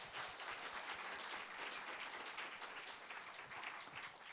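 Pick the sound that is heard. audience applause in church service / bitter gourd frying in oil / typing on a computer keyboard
audience applause in church service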